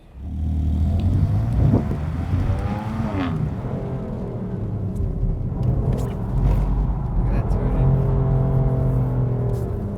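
A BMW M2 Competition being driven, its engine droning steadily and loud throughout with rising and falling revs and a deep rumble, heard from inside the car without talk.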